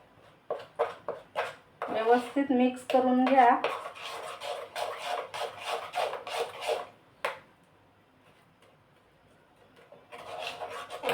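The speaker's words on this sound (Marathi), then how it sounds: "एकाच साईडने असं फिरवत जायचं मिक्स करत जायचं" Rice dhokla batter being stirred in one direction with a spoon, giving rhythmic scraping and rubbing strokes against the bowl, close and fairly loud, with someone talking over the mixing and a short pause before stirring resumes.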